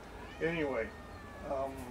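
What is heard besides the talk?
cat meowing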